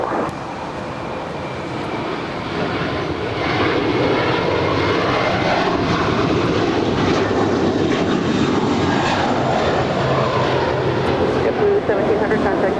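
A JetBlue airliner, flight 1700 bound for Fort Lauderdale, takes off from Los Angeles International Airport, its engine roar building over the first few seconds and then holding loud and steady, with voices talking over it.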